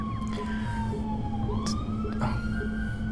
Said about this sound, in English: Don't know if you can hear those, but we've got a bunch of police sirens outside.